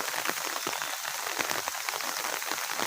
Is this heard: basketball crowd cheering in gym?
no